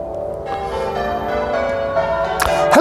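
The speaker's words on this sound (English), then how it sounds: "that was bell ringing practice, I think, wasn't it, at the parish church opposite the pub" Church bells ring at a parish church opposite a pub in a town, sounding as a sustained, overlapping metallic wash of tones with steady loudness and rising clangs near the end, no voices present.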